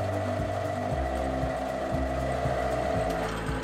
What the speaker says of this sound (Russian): Сверлю отверстие